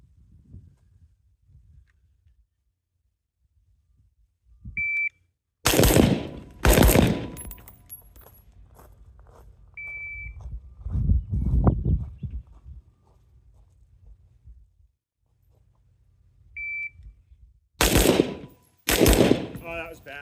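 Gunshots from a pistol during a shoot-move-shoot drill at a range, fired in sharp, loud pairs separated by pauses, with brief quieter stretches of movement and faint background noise between the volleys.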